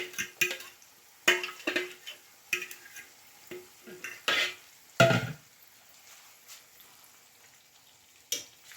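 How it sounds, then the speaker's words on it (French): A spaghetti omelette mixture frying in a pan, with a handful of separate spatula scrapes and clatters over a light sizzle, then quieter stretches near the end. "je vais mettre tout ça dans la poêle"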